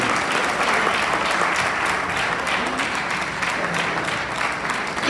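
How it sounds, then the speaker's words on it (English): Steady, dense applause from a conference audience at a music and fine arts event, sustained loudly and evenly throughout with no talk over it. "Let's give them another round of applause."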